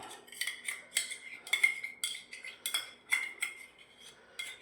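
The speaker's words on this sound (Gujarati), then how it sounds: "કઢાઈ મૂકી દીધી છે બે ત્રણ ચમચી ઘી નાખી દો" A spoon clinks repeatedly against a metal wok while ghee is added for sweet potato sheera, with sharp, close metallic taps in an irregular rhythm and no speech.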